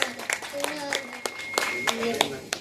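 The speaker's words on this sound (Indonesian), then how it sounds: "Cukup beri tepuk tangan yang meriah untuk khatimat nomor 5." Scattered hand claps from an audience at a santri Quran khataman and graduation ceremony, a handful of sharp, uneven claps rather than full applause, mixed with voices speaking.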